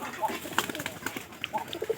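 Domestic pigeons coo softly in short, low warbling calls, a few separate coos spaced across a quiet background with faint other sounds nearby.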